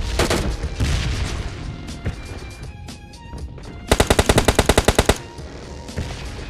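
SKS rifle fire in PUBG Mobile Lite, with scattered distant shots and then a loud, rapid burst of about a dozen evenly spaced cracks, followed by quieter game ambience.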